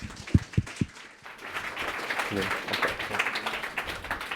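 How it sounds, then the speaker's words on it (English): A few sharp close claps give way to a building round of audience applause welcoming a speaker onto a conference stage, dense and sustained clapping with some crowd noise. "Let's give him a warm round of applause"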